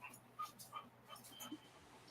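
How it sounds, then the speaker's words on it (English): A 198-pound Great Dane whimpers and yips softly in a string of short, high, faint cries that repeat irregularly, close by, with quiet background noise. "Sweet dog."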